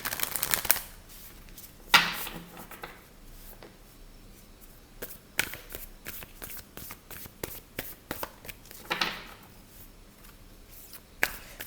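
Tarot cards are shuffled and drawn close up, with riffling and flicking bursts, soft sliding and sharp snaps of cards placed down at an irregular pace, quiet and with no talk.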